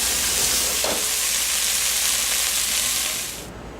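Green beans with toasted almonds fry in butter in a pan, giving a steady, close, bright sizzle that fades slightly at the end.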